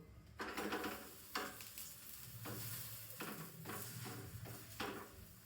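Bajra flour thepla flatbread sizzling on a hot pan, a close, continuous frying hiss broken by rhythmic scraping strokes as it is pressed and turned.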